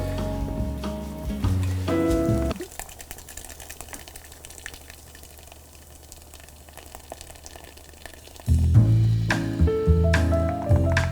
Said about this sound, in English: In goes a full can of Guinness